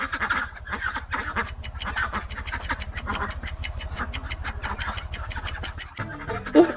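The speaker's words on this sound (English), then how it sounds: "It's a duck." A duck quacks in quick succession in a farm animal sound recording, a long run of close, raspy quacks over a low steady rumble, ending with a brief different noise.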